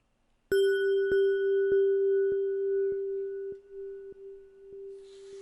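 Filtered feedback delay echoes of a bright tonal ping, repeating at a steady rhythm about every half second and slowly fading and dulling as high tones are stripped away, with no voices.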